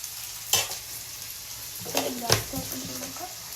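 Ginger garlic paste fries in a pan with a soft, steady sizzle, broken by a few louder clinks and scrapes of a spoon stirring close by.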